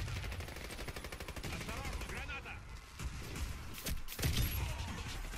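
Rapid automatic gunfire from the Mr. Cleaner weapon in the shooter game Warface, a dense, continuous rattle of loud shots with a few heavier bursts. A player talks faintly underneath.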